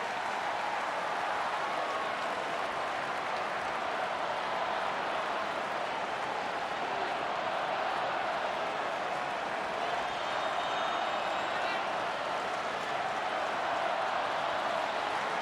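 A large crowd at a Cubs baseball game in the ninth inning, Cardinals visiting, makes a steady, dense murmur and buzz, distant and even, with scattered claps and no clear peaks.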